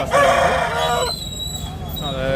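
An Aseel rooster crows loudly and close by at a poultry market in Nellore, one long drawn-out call followed by the start of another, with faint background noise.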